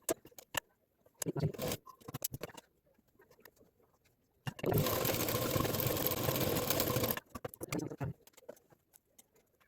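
A sewing machine runs in one steady burst of about three seconds, stitching canvas and lining fabric for a homemade potli bag, with scattered handling clicks and rustles before and after.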